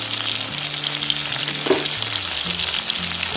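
Onions, chillies, sundal, curry leaves and ginger sauté in a pan for a South Indian kuzhambu. A steady, close oil sizzle continues throughout, with occasional stirring and a low background hum.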